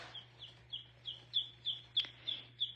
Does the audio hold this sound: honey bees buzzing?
no